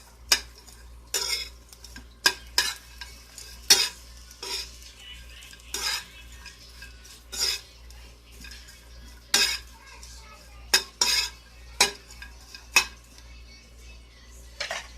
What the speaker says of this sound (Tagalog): At halo kay ubi na natin hanggang sa maluto siya